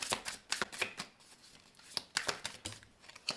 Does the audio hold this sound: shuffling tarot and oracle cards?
yes